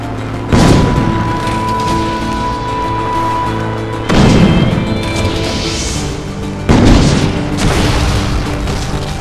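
Three heavy booming blasts strike at steady intervals over loud, continuous rumbling noise as a flying machine is shot and destroyed in Assassin's Creed Brotherhood.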